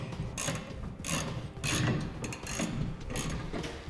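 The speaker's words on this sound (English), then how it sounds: "We'll be using a 1/2 inch Allen socket to tighten this down." A ratchet fitted with a 1/2 inch Allen socket tightens trailer hitch bolts on a 2011 Dodge Dakota, giving short bursts of rapid metallic clicking repeated about six times, close and fairly loud.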